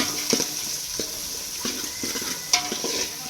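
Onions fry in a pan, with a moderate sizzle broken by repeated spoon scrapes and clinks against the pan, close and without talk.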